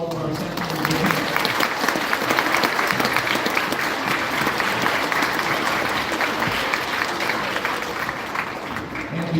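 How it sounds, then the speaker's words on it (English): At a school band concert, the crowd gives staff members a sustained round of applause, with many hands clapping at a steady, even level for several seconds. "Can you please give a round of applause to all of our staff members?"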